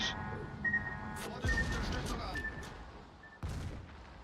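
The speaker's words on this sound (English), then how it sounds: "Ten more bomb hits." Bomb hits bursting on a warship in a naval combat game, a string of dull booms and explosive thuds layered over continuous battle noise, with a few sharp bursts standing out near the middle and toward the end.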